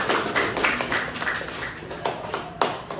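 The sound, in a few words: class applauding with hand claps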